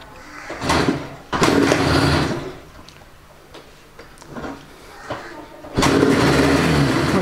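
A Yamaha RD 350 motorcycle with its carburettors being synchronised is kicked into life. A loud burst of engine noise is followed by a quieter, uneven idle, then the engine revs up loudly again near the end.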